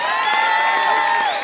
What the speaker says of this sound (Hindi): जोरदार तालियां गांडा के लिए।